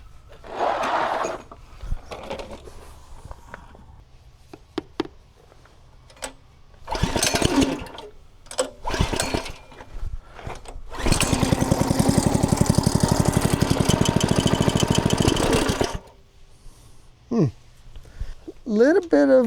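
A small engine cranks in short sputtering bursts, then catches and runs as a steady buzzing drone for several seconds before cutting out. It is heard close up, with a person talking between attempts.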